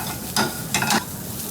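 Garlic sizzles in a pan for pasta, a soft steady frying hiss broken by a few louder bursts of stirring and spattering, close and alone without talk.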